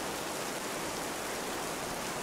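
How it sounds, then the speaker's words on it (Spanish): Steady, dense rain hiss from the survival game This Land Is My Land, a continuous broadband wash like downpour close overhead, even in level throughout with no voices. "Y la lluvia la tenemos justo encima."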